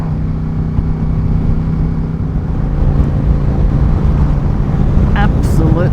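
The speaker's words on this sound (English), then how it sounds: "the awesome amount of sound that it blasts out when you twist the throttle" Yamaha XVS 1100 V-Star motorcycle engine rumbling loudly and deeply up close, swelling slightly as the throttle opens, with wind buffeting the microphone.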